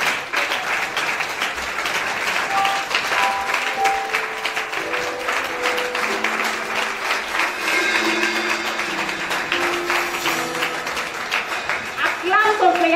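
A church congregation at an evangelical Mother's Day service applauds to acclaim the Lord, with sustained clapping throughout and voices and singing mixed in over it.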